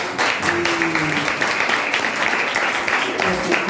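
Audience applause at a youth civic-education event in Haiti, a dense steady wash of clapping lasting throughout, with some voices mixed in.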